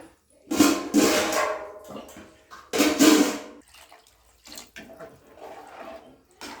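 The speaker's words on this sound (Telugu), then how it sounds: "ఇంకా కొన్ని నీళ్ళు వేయాలా." Water is poured in two splashy bursts into a pot of okra curry, each a short gush into the liquid, followed by quieter stirring and bubbling.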